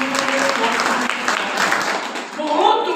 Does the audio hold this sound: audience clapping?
yes